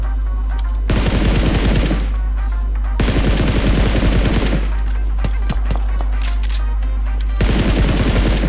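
Loud bursts of automatic gunfire in PUBG Mobile, three long rapid-fire volleys with short gaps between them, close and dominant, with little else heard.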